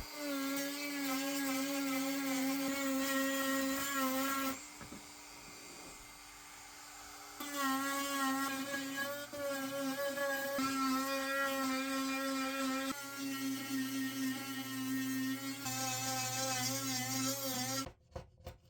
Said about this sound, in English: I came back with the Dremel and some sanding bits to make all the edges of the letters nice and smooth.